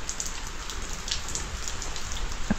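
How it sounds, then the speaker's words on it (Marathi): Monsoon rain in the Konkan countryside falls steadily as a dense, even hiss of drops on surfaces. It is close and moderately loud, with no voices. "असा हा कोकणातील पाऊस, हिरवगार निसर्ग झाला"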